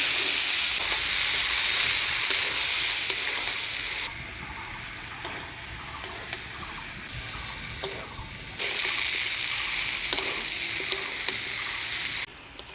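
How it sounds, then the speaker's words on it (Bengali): Boiled jackfruit stirred and frying in spice paste in a pan, a loud continuous sizzle close by with scraping stirring strokes throughout, no talk. "মশলার সাথে কাঁঠালটা দিয়ে ভালো করে নাড়াচাড়া করে নিলাম।"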